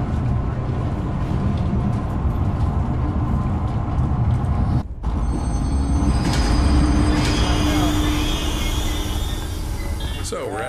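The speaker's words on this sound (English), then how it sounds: "I was trying to figure out how to start the train" Train running in the Zoochosis video game, a steady loud rumble with mechanical clatter throughout, a brief dip near the middle, and a higher whine and rattles building toward the end, with a voice talking over it.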